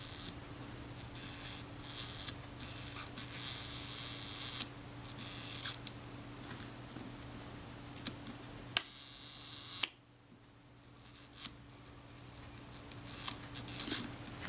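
A Compur-Rapid camera shutter under service clicks and whirs repeatedly, sharp mechanical snaps spaced irregularly over a steady background hum, with one abrupt cutoff midway before the clicking resumes, close and clear.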